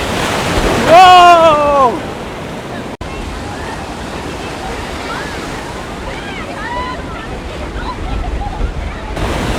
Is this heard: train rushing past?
no